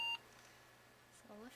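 A veterinary blood chemistry analyzer gives a single short, clear electronic beep when the sample is ready, then the room goes quiet with a low hum, and a voice starts faintly at the end.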